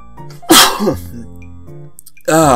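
A single loud, close sneeze bursts out, followed by quiet breathy sounds and another sharp vocal burst at the end.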